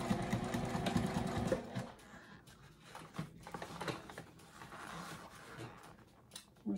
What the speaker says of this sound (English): I'm just gonna backstitch.